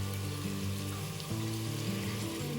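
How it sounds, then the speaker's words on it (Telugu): Ginger garlic paste frying in a pan for vegetable pulao, a soft continuous sizzle and crackle with a low background hum, fairly quiet and close. "అల్లం వెల్లుల్లి పేస్ట్ పచ్చి వాసన పోయే వరకు వేయించుకోవాలి."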